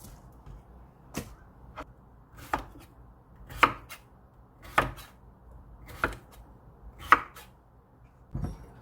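A knife chops cucumber into 2 cm thick pieces on a cutting board for Korean cucumber kimchi, about eight sharp, evenly spaced thunks ringing out clearly with quiet gaps between them.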